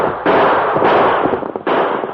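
Gunshots in a radio drama shootout with outlaws holding up a stagecoach: loud, sharp blasts close by, about three reports in quick succession, each trailing off into a noisy rumble.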